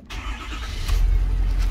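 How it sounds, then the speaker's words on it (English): A 2017-2021 Ford F250 Super Duty single-rear-wheel pickup engine cranks briefly, then catches into a deep, steady rumbling idle, close and fairly loud with no talking. "we're gonna go ahead and start the truck"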